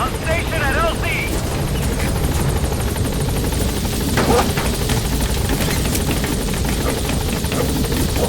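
The B-Quad helicopter arriving at a landing zone in Metal Gear Solid V, a loud continuous rotor roar with chopping texture filling the scene, while radio voices and game sounds come and go over it.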